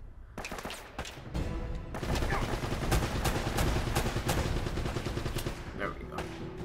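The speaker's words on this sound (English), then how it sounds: "Can you hear just that continuous gunfire?" Gunfire rattles almost nonstop during a firefight in Uncharted: Drake's Fortune, dense automatic bursts with booming impacts under steady game noise, loud and sustained throughout.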